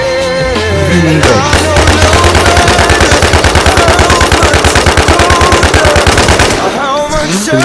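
Sustained machine gun fire in a video game, a loud, rapid, evenly spaced stream of shots lasting several seconds, with game sounds around it.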